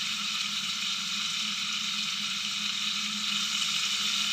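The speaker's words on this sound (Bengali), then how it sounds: "তেলটা আমার গরম হয়ে যাওয়ার পরে আমি একে একে চিংড়ি মাছগুলো এখানে সাজিয়ে নিয়েছি।" Prawns frying in hot oil give a soft, constant sizzle at an even moderate level throughout, with no talking over it.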